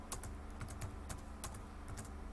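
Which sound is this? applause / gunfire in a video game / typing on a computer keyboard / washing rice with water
typing on a computer keyboard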